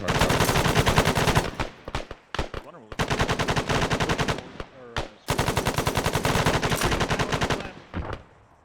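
Machine gun fire in the military video game ArmA 3 during a platoon exercise, long loud sustained automatic bursts separated by brief pauses, with a few shorter bursts between them.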